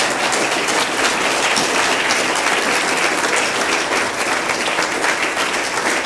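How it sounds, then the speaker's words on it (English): A conference audience gives sustained, even applause for a speaker on theology of hell, a loud, dense wash of many hands clapping without pause, no talk over it. "let's give Robin another round of applause"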